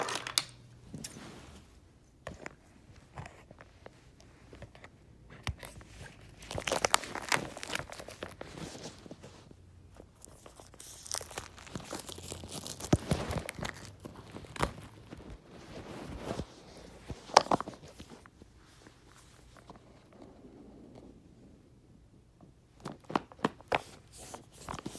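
Packaging for a pair of AirPods being unwrapped by hand, with bursts of crinkling, tearing and rustling paper and plastic coming in irregular close clusters, some louder, between quieter handling pauses.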